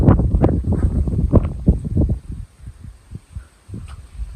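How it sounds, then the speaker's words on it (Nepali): Strong wind tearing through hillside trees at Tinchule Sungkuk: loud, gusty rumbling buffets the microphone in uneven surges, then eases into softer, scattered gusts. "हावा चाहिँ एकदमै कडा चलिरहेको छ आज सुङकुकमा है"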